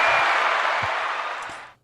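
A burst of dense applause plays as a sound effect, steady, loud clapping with a few low thumps beneath, fading out abruptly at the end.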